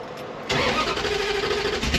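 A 1968 Dodge Dart cranks briefly and fires into a steady idle, close and loud, its engine note settling into an even rumble after the catch.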